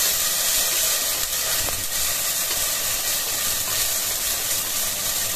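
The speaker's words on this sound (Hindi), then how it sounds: "थोड़ा सा अदरक लहसुन का पेस्ट हम डाल देंगे" Onion sautéing with ginger garlic paste in a pan, a loud, continuous close sizzle and steamy hiss with faint stirring, no voices.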